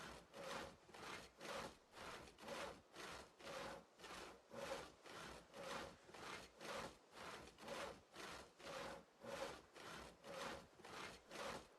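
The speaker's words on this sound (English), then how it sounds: "I am infinitely sawing." A steady back-and-forth rasp of wood being sawn in a multiplayer video game, each stroke evenly spaced in a continuous loud rhythm with no talking.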